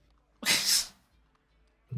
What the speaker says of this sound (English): I thought you sneezed.